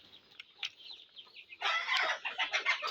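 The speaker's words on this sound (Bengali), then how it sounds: "এগুলো অরিজিনাল টাইগার মুরগি।" Tiger-breed chickens at a poultry farm and hatchery cluck and squawk nearby, quiet scattered calls at first, then a dense, louder burst of overlapping clucking in the second half.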